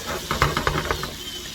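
Food frying on a cheap cast iron cooking disk, with a cluster of quick crackling pops and spits over a steady hiss, close and fairly loud, fading after about a second.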